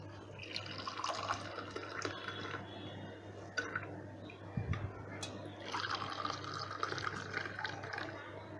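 Masala ginger tea pours in liquid splashes and trickles into two cups, a quiet pour with short pauses between streams under a low steady hum in a kitchen setting.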